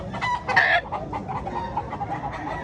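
A rooster at a poultry expo in Consolacion, Cebu gives loud, close clucks and a crowing burst early on, followed by quieter calls over a busy indoor murmur.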